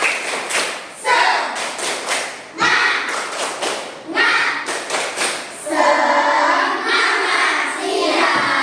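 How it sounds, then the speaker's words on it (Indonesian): A school class claps out a rhythmic 'tepuk semangat' chant, with bursts of patterned clapping and thumps, and children's voices chanting in between, all close and lively. "sebelumnya tepuk semangat siang"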